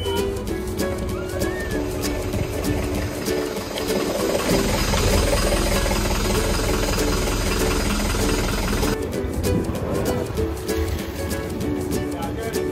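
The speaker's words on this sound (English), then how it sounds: "Engine on." A sailboat's engine runs steadily after starting as the boat is launched, a continuous mechanical drone with water lapping around the hull and voices talking over it.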